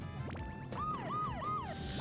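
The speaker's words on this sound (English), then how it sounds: "I do not like the sound of the siren." Wailing siren from the Dr. Mario Online RX video game on Wii, with repeated rising-falling electronic whoops in a steady rhythm, loud and clear over game background music.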